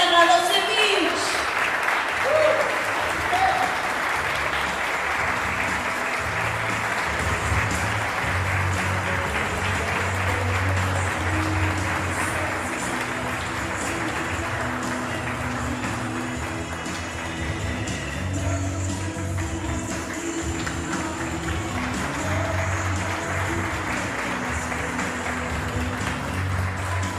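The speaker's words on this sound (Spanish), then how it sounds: "Recibimos con un fuerte aplauso a Gisela Radosevich." Applause from an audience at a commemoration event, a sustained wash of clapping heard somewhat distant and under a low background hum, continuing evenly throughout.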